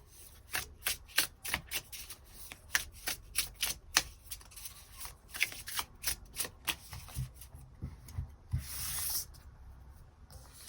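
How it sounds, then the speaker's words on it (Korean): A deck of tarot cards being shuffled by hand in repeated quick riffling bursts, close and fairly quiet, with no talking. "그 부분 추가 카드 뽑아보도록 하겠습니다"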